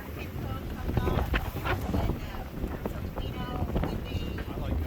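Wind buffets a sailboat beating upwind out of a bay on open water. It roars and gusts steadily into the microphone the whole time, with a voice talking faintly underneath.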